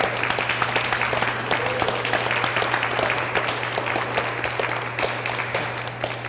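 Steady applause from an audience at a poetry gathering honoring the poets who have performed. The clapping is dense and even, heard from the room for about six seconds over a faint constant hum.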